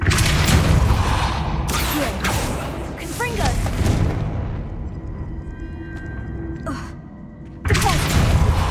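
Confringo explosion spell in the video game Hogwarts Legacy: loud, booming blasts with broadband roars in several surges over several seconds, a quieter decaying tail with faint ringing tones, then another heavy burst near the end.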